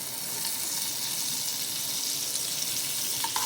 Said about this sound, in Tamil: நம்ம கொஞ்சம் பட்டர் போட்டுக்கோங்க.